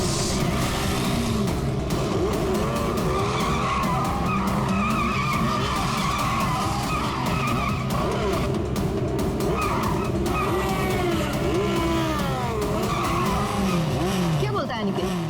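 Tires skid and squeal almost without pause as racing motorbikes rev and slide through an illegal bike race, a loud continuous wash of screeching and engine noise, with voices talking over it.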